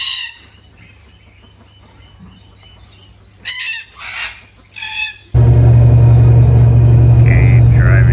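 Colorful parrots and cockatoos call in the Blue Mountains of Australia: a few loud, harsh screeches in short bursts, then a heavy, steady roar of road or engine noise takes over.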